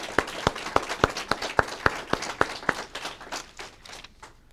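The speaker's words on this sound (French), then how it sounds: "On t'applaudit, Suzanne." Rhythmic clapping from a small group of mourners at a funeral ceremony, about a dozen slow, even claps in unison that fade into scattered softer claps, close and alone without speech.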